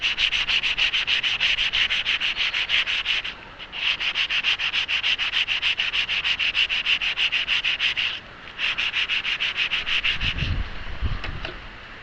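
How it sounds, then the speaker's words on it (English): Hand sanding with 600 grit sandpaper on a part for a homemade wind generator, loud close rapid back-and-forth rasping in two long runs split by a short pause, ending with a few soft knocks. "Why don't I sand this? I happen to have some 600 here."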